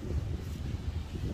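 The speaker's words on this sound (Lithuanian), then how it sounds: "Tikriausiai vėjas labai pučia." Strong wind on the Santorini coast buffets the microphone in a steady low rumble, loud and continuous with no talk.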